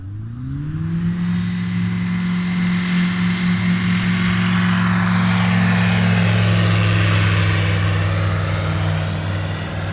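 Small propeller airplane engine droning near a grass airfield beside an active runway, a steady loud buzz with a slowly shifting pitch that holds for the whole stretch.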